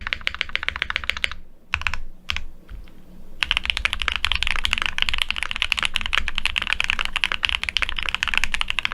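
Rapid, clacky typing on a modded Keychron Q1 mechanical keyboard running QMK, close and crisp, with a brief stuttering pause early on before a dense, continuous run of keystrokes.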